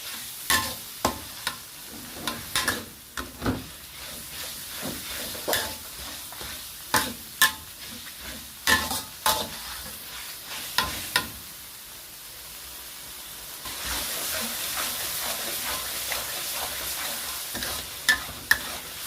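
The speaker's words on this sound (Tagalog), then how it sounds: "Fried it until the aroma come out." Spices stir-fried in a pan for urap, an Indonesian vegetable salad topped with spiced grated coconut. Sharp spatula scrapes and clicks over a low sizzle at first, then a louder, steady close-up frying hiss without speech.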